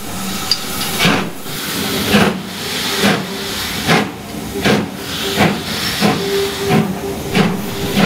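Steam locomotive at a heritage railway station gala in damp air, releasing repeated loud bursts of hissing steam in a rough rhythm roughly every second, close by with no voices.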